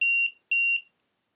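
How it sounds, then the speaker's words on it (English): A buried treasure game sounds its buzzer in two short, identical electronic beeps, loud and clean against silence. "you should hear the buzzer and the green light should flash"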